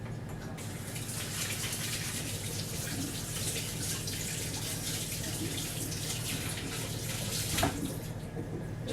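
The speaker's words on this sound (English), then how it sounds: "Just washing my hands." Hands washed under a running kitchen tap while baking scones, a steady close gush of water lasting the whole time with small splashy shifts as the hands move.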